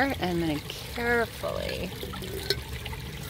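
Creek water is poured from a stream into a clean glass jar, a short gurgling splash heard under a voice as he talks.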